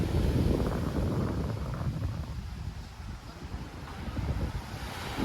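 Sea waves on a beach in Phang Nga, Thailand, make a continuous broad surf roar. Heavy wind buffets the microphone, and the wash swells and eases without any voices.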